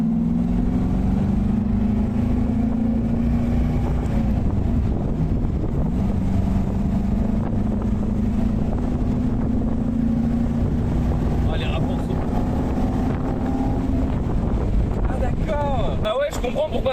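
A Chevrolet Corvette C1 with a naturally aspirated V8 drives along, its steady engine drone rising and holding under continuous wind rush, while a voice talks over it throughout.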